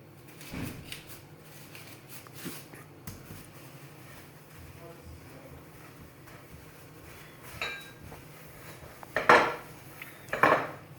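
Metal baking pans clatter and clink in a home kitchen while being greased with cooking spray for brownies, with scattered knocks and a couple of louder bangs near the end against a quiet background.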